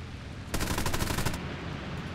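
Guns on a C.202 Folgore fighter plane in the War Thunder game fire one rapid burst of about a second, loud and crackling, against steady engine drone; no talking.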